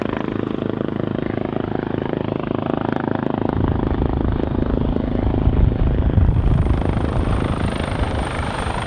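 A helicopter hovers over the sea during a commando selection trial, its rotor and engine roar loud and constant with heavy rumbling wash throughout, and no voices.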